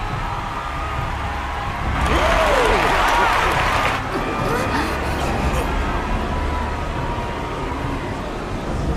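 A video game crowd bursts into loud cheering and applause for about two seconds, then fades back beneath a steady ambient din and a voice speaking.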